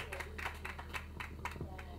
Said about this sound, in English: Clap now. Just give me your hands.